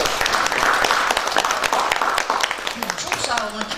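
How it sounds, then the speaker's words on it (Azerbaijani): Warm applause from an audience for the author at a book presentation in Quba, a dense patter of clapping that thins toward the end as a voice begins speaking over it. "ona bir ürəkdən alqış istəyərdim"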